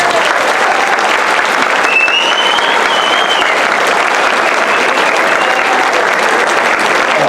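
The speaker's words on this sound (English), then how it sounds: "let's give them applause." Loud, dense applause for sixth graders at a school band concert, sustained from start to finish with a few faint whistles or cheers mixed in.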